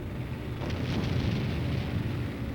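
Overhead artillery proximity fire bursts over a tank-infantry exercise, heard as a dense, continuous rumbling thunder of explosions with a sharper cluster of blasts near the middle, loud and unbroken.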